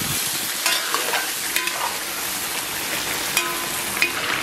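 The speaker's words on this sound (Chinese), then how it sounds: "稍微来点老抽，再次煸炒一下" Pork belly and chicken stir-frying in a wok, a continuous bright sizzle with repeated scraping strokes of a spatula against the metal, close up, uneven rhythm, no voices.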